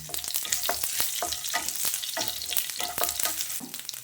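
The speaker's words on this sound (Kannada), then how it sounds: "ಹಾಗೆಯೇ ಕಸ್ತೂರಿ ಮೆಥಿ, ಹಸಿರು ಮೆಣಸಿನಕಾಯಿ ಎಲ್ಲ ಹಾಕಿ ಮಿಕ್ಸ್ ಕೊಡ್ತಾ ಇದ್ದೇನೆ, ಫ್ರೈ ಮಾಡ್ತೇನೆ." Kasuri methi and green chillies fry in a hot pan with a steady sizzle, broken by repeated scrapes and stirs of a spoon, close and loud throughout.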